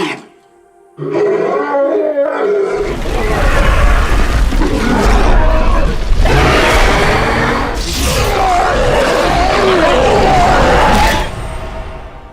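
A film dinosaur roar for Jurassic World, blended from sows, howler monkeys, leopards, walruses and lions, opens with a short cry, then swells into a long, loud, rumbling bellow lasting about eight seconds before cutting off.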